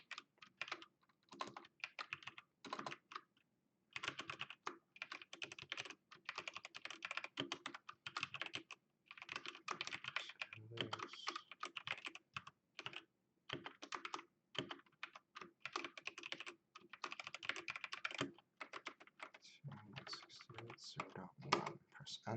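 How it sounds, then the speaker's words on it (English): A command is tapped out on a computer keyboard for a Windows Server lab: bursts of close, crisp keystrokes with short pauses between runs, occasional heavier thunks, and no voices. "So let's type in this command."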